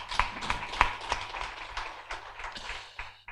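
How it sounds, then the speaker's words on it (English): A conference audience applauds the Minister at a financial literacy think tank event, a short burst of scattered, moderately close clapping with uneven peaks that tapers off after a few seconds. "A big round of applause for our Minister."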